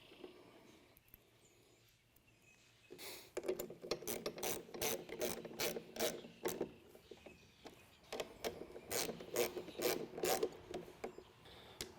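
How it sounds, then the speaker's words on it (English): A ratchet wrench tightens bolts on the bottom float brackets of a Lucky Duck Ice-X floating ice eater. The pawl makes rapid, close clicking in repeated bursts after a quiet start, with brief pauses between the strokes. "So as we finish tightening up the bottom float brackets"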